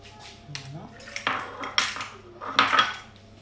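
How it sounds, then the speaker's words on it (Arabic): A whisk taps and clinks against a bowl while beating plum cake batter after eggs are added, in a few uneven close strokes with some quiet kitchen noise. "je vais encore fouetter un petit peu"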